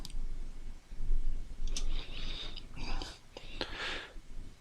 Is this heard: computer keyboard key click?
yes